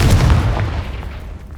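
A Confringo blast spell erupts in Hogwarts Legacy as a single loud, close explosive boom with a heavy low rumble that fades over about a second.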